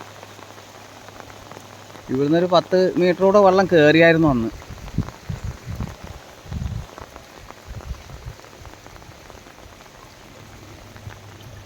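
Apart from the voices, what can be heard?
heavy monsoon rain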